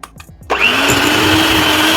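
Electric mixer beating mascarpone cheese into batter for rasmalai milkcake. A few soft knocks come first, then the motor starts with a sudden loud whir and holds a steady high drone right up close.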